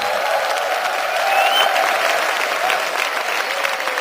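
Applause of encouragement from a student conference crowd at a church retreat, a dense steady roar of clapping mixed with a few cheers, loud and continuous throughout.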